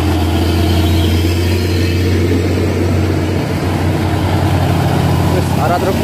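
An old truck engine idles close by in a steady low rumble, with a faint rattle and distant voices in the background near the scene of a two-truck crash.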